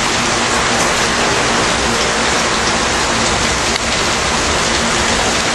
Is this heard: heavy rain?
yes